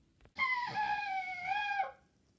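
A baby screams inside a moving car: one loud, sustained, wavering wail of about a second and a half, heard alone against a quiet background.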